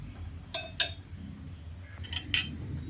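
Spoon clinking against a cooking pot while salted potatoes and water are stirred for fish curry, several sharp metallic taps in two close pairs over a low background hum.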